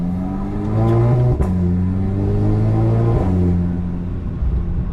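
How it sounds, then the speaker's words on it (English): A 500 WHP Audi S3 engine revs hard while driving, its tone climbing in pitch over several seconds, dropping briefly, then rising again in a loud, steady drone. "So we're gonna enjoy my car"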